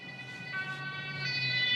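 An emergency siren, from an ambulance or police vehicle, wails on a German road, its pitch shifting as it sounds moderately near over low road and engine rumble.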